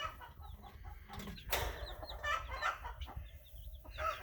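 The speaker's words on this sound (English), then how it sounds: "Our broody hen hatched 3 chickens out of that 7 eggs she was sitting on." A broody hen with three newly hatched chicks clucks softly and close by, with faint high peeps from the chicks scattered over a low background.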